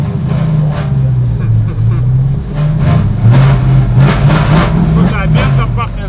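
V8 exhaust of a RAM TRX pickup rumbles loudly and steadily up close, with a few revving surges as people talk over it.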